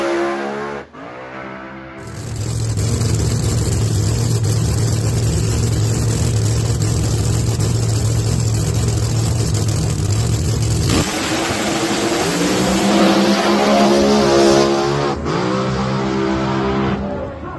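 Drag race cars launch in a semifinal run in New York, a loud engine roar building from idle into a sustained high-revving blast for several seconds, then dropping and rising again as the revs change.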